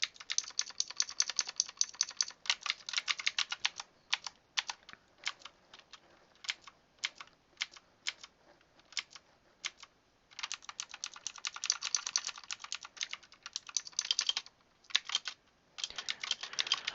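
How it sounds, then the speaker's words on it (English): Rapid clacking of a mechanical keyboard being typed on in bursts, close and clear, with brief pauses between flurries of keystrokes and no voices. "It really is a game changer to have a mechanical keyboard compared to a traditional membrane keyboard."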